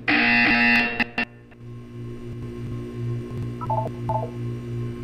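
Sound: buzzer in Portal 2 video game

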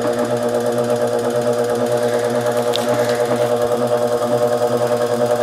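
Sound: electric motor running 8-frame wooden honey extractor

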